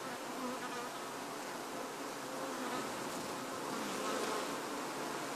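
Honey bees hum in a dense, steady drone around an opened hive during requeening, the buzzing continuous and close with no voices.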